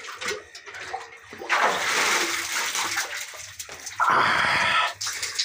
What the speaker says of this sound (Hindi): देख सकते हो अभी मैं पानी उठाऊंगा कुएं के अंदर से